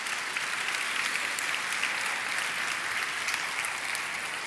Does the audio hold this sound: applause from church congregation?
yes